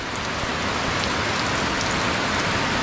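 Heavy rain pours down steadily, a dense, even roar of drops hitting surfaces close by with no letup.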